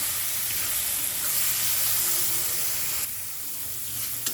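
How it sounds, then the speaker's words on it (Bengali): Vegetables frying in hot oil for noodles produce a dense, continuous hiss that stays loud and close, easing slightly toward the end, with no speech. "সবজিটা খুব ভালোভাবে তেলের ভেতরে ভেজে নেওয়ার জন্য"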